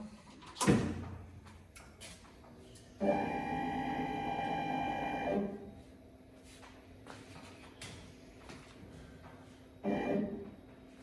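A CNC router with a 1 mm single-flute spiral bit and spindle at 16,000 RPM cuts 3 mm coated MDF, giving a steady whining cut of a few seconds between sharp knocks and quieter pauses.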